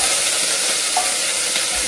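Curry leaves and dried red chillies crackle in hot oil with mustard seeds, a steady close, loud sizzle filling the whole moment without any voices.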